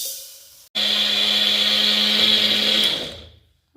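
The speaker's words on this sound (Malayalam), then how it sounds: "ഇനി ഇത് നന്നായി ഒന്ന് മിക്സിയുടെ ജാറിലിട്ട് പൊടിച്ചെടുക്കട്ടെ" A mixer grinder jar grinding half a cup of sugar gives a loud, steady, high-pitched whir after a brief pause. It runs for about two seconds and then winds down as the motor is switched off.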